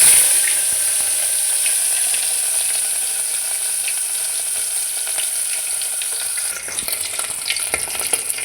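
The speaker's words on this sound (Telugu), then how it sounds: "డ్రై ఫిష్ బాగా వేగిపోయింది." Dry fish fries in hot oil for an egg curry, giving a loud, steady sizzle and hiss throughout, with a few utensil clinks and stirring sounds near the end.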